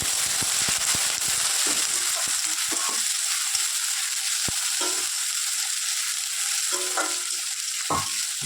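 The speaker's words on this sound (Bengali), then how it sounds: "পেঁয়াজ, রসুন আর টমেটো আর লঙ্কা কুচি নিয়ে নিয়েছি, এটা এখন দিয়ে দেবো এর মধ্যে" Onion, garlic, tomato and chopped chili fry in a pan with a steady, loud sizzle. Scattered clicks and scrapes of stirring break through it, and no one speaks.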